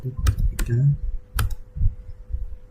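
Manual typing on a computer keyboard while entering variables into SPSS, a few scattered clicky keystrokes close by, with a voice speaking faintly in the background.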